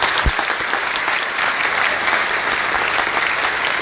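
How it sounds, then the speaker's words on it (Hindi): Loud, steady applause from a crowd at a network-marketing event in Varanasi, many hands clapping in a continuous wash with occasional sharper individual claps. "जोरदार तालियां।"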